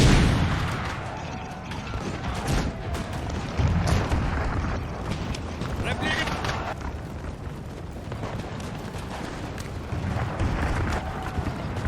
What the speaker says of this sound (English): Check out this artillery piece.